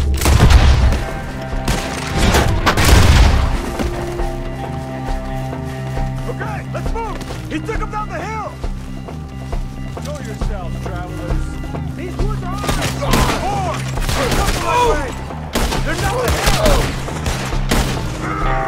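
A video game ambush by the Skinner Brothers erupts in a loud, chaotic shootout, with volleys of gunshots and booms running throughout and voices shouting over the firing.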